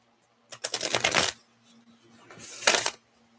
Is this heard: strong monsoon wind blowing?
no